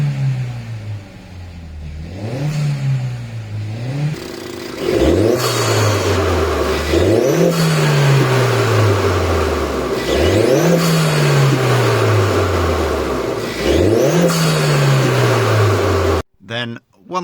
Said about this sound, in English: And we got a bit of turbo noise there now, whereas before it was completely silent.